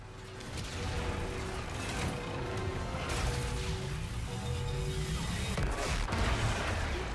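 Weapon fire in Call of Duty Infinite Warfare, a rapid, sustained stream of heavy shots with booming impacts and mechanical clatter, loud and continuous throughout with no talking.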